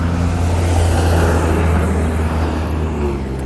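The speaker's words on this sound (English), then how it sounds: "Sorry about that rude truck that just drove by" A truck drives by on the road with a loud, close, sustained engine roar and low rumble that eases slightly as it passes.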